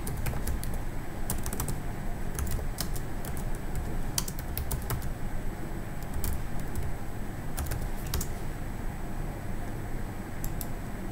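Keys clatter on a computer keyboard as a Salesforce helpdesk contact form is filled in, a run of quick irregular clicks in bursts over a steady, noisy background hum.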